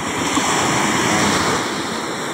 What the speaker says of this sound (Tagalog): pag yung lumakas ang hangin habagat, nagkakaalon yung dagat